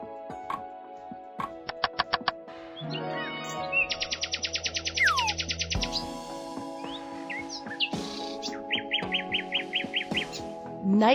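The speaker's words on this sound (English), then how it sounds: "Nightingale." Nightingale song, close and loud: varied phrases of rapid repeated notes, whistles, trills and buzzy rattles separated by brief pauses, with no voices.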